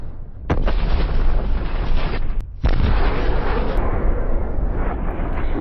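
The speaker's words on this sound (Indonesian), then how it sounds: "memilih meledakkan diri bersama 2 kaiju yang tersisa" A massive, roaring explosion from a film scene as a giant robot self-destructs alongside two kaiju: a loud sustained blast rumble, broken by a brief gap, then a second long thundering wave of debris and roar.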